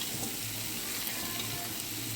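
Pre-fried peanuts are stirred into red amaranth greens frying in a pan. A soft, continuous sizzle carries a faint bubbling texture and no distinct strokes. It stays quiet and close, with no voices.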